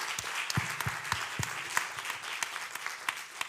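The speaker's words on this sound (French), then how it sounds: "je pense qu'on peut l'applaudir" Audience at a French critical-care nursing conference applauds, with individual claps standing out distinctly over a softer wash of clapping, moderately loud and fairly sparse.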